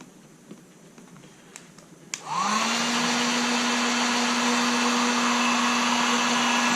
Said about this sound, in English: If you're using a heat gun this close to the fuel tank and you get it hot enough